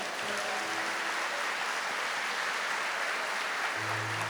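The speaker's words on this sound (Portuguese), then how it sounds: "Pode aplaudir" A church congregation claps together in a dense, sustained wash of applause, steady and fairly loud, with no speech over it.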